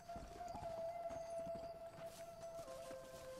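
Horse hooves clip-clopping in the video game Red Dead Redemption, a steady walking rhythm of hoofbeats over a faint tonal game soundtrack.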